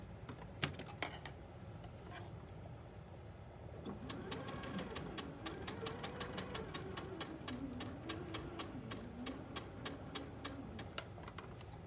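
A sewing machine with a red dot foot sews slowly along a marked line, giving a faint, even run of fine ticking stitches with soft whirring underneath at close range.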